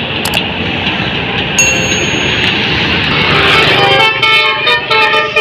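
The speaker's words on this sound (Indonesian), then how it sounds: "Ini ada mobil Kijang, ada basurnya coy" A Toyota Kijang car plays a basuri musical horn, a loud melodic honking line with repeated rising and falling tones in the second half, over steady nearby road and engine noise with no talking.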